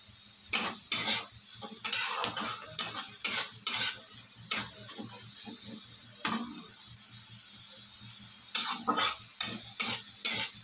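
Onions sizzle and fry in a pan while a spoon scrapes and stirs them in irregular bursts, close and moderately loud, with the steady hiss of frying underneath and no talking; the cooking is for an egg curry.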